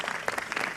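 A brief burst of applause from a religious gathering's audience, dense clapping close and lively, with a hint of voice mixed in.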